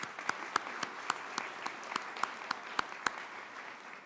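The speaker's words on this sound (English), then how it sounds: "Let's give them a round of applause." An audience at a college commencement ceremony applauds steadily, with a dense wash of clapping and a few sharper individual claps standing out from a moderately distant crowd.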